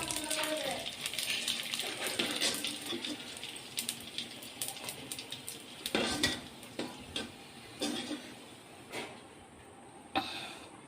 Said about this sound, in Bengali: তো আমি সবগুলো ফুচকা ভেজে নিয়েছি।